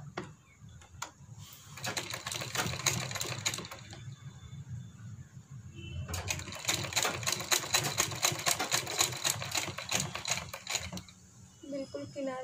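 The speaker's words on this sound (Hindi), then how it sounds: "ये अब इसमें किनारा से बिल्कुल बारीक सा अटैच करेंगे और सिलाई लगाते" A sewing machine runs in steady rapid bursts while stitching narrow piping onto the edge of a garment neckline, stopping briefly between runs, with a low hum and faint background voices.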